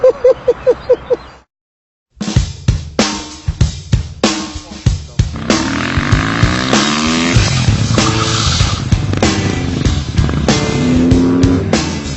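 A KTM 450 supermoto motorcycle revs and brakes into sliding, with loud repeated engine bursts, then sustained rising and falling revving and skidding tire noise after a short silence.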